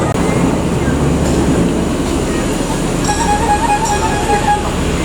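Indonesian passenger train passing close by, a steady loud rumble of wheels and carriages with high metallic ringing tones partway through, continuous for the whole stretch.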